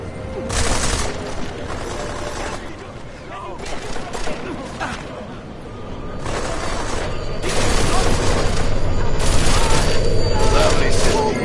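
Gunfire in the video game Deus Ex: Mankind Divided, repeated loud bursts of shots and mechanical clatter, with heavier firing toward the end over game noise and brief shouted voices.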